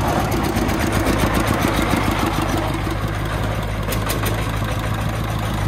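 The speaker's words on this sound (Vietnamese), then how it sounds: "Đây là chiếc xe công nông được trang bị máy ô tô" Car engine fitted to a homemade Vietnamese farm tractor idles steadily and close by, a continuous low chugging throb with a faint rhythmic clatter, with no voices.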